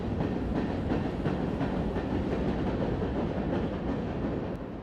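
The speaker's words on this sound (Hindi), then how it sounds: "तो एक ही टाइम पर ट्राम, ट्रेन, मेट्रो सब यहाँ चल रही हैं छोटे से शहर में।" A tram or train rolls past on a city street in El Paso, a loud continuous rumble with rapid rattling wheel clatter that eases slightly at the end.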